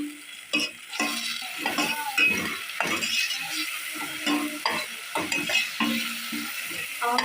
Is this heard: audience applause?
no